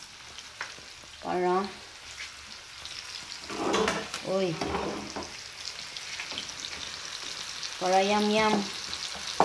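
Seasoning sizzles in a hot pan while cooking, a soft steady frying hiss broken by brief stirring scrapes, with people talking over it.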